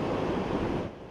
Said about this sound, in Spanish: el agua tiene fuerte oleaje